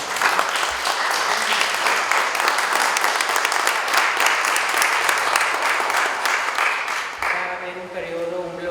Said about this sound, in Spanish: Les pido un fuerte aplauso a ellos.